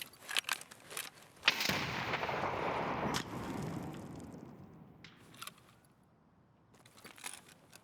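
A grenade blast in the shooter game Escape from Tarkov, a sharp loud burst followed by a rumbling decay over a couple of seconds, with scattered clicks and quieter gunfire-like cracks before and after.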